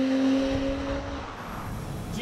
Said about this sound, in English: A 911 turbo roars.